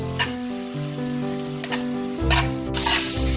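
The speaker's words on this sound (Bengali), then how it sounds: "জল দিয়ে এবার এটাকে ভালো করে মশলাটাকে কষিয়ে নেব যতক্ষণ না মশলাটা থেকে তেলটা আমার আলাদা হয়ে যাচ্ছে।" Spiced masala paste for a Bengali-style tilapia curry fries in a pan with a little water, giving a steady close sizzle with stirring scrapes and a louder burst of frying near the end.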